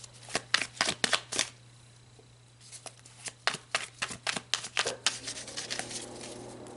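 Tarot cards are shuffled by hand, a close run of quick riffling flutters in two bursts separated by a short pause, crisp over a faint steady hum, with no talk.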